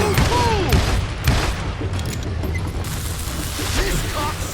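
Western gunfire in the Call of Juarez Gunslinger video game, loud repeated shots and booms overlapping with game sound effects, with voices shouting over the action.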